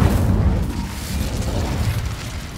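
A fire spell cast in the Hogwarts Legacy video game, a sustained low rumbling whoosh that surges loudly at the start and stays steady, with no voices.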